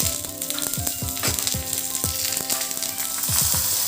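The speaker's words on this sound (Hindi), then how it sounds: "इसके लिए थोड़ा सा सरसों तेल लिया है मैंने और उसमें डाला है राई, सूखी लाल मिर्च और करी पत्ता।" Loud, steady sizzling of mustard seeds, dried red chillies and curry leaves in hot mustard oil, crackling and popping close up with a few clinks of a spoon stirring the pan.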